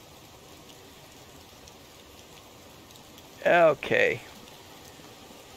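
Steady rain falling in the medieval survival game Medieval Dynasty, a soft, continuous low hiss across the whole stretch, with someone briefly speaking near the end.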